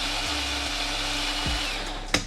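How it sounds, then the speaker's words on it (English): A kitchen blender whirs steadily, puréeing charred peppers with pickle juice into a smooth sauce, a constant loud motor drone that briefly dips and ends with a sharp clack. "we're gonna throw them in the blender, add in the pickle juice. Now we're gonna blend this until nice and smooth."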